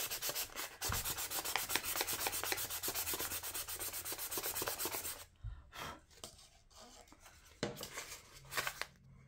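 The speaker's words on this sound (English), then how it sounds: "the stairs needs to be sanded" Fine wet-dry sandpaper rubs back and forth over the wooden stairs of a doll house, a close, steady rasping for several seconds that then breaks into shorter, separate strokes.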